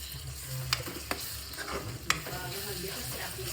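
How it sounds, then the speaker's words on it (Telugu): Onion paste, green chilies, curry leaves and chopped tomato cook in oil with a soft bubbling sizzle, broken by a few sharp clicks and scrapes of a spoon stirring the pan. "పొయ్యిలో నేను ఉల్లిపాయల ముద్ద, తర్వాత పచ్చిమిర్చి, కరివేపాకు, టమాటా అవన్నీ సన్నగా తరిగి అవన్నీ నూనెలో మగ్గిస్తున్నాను"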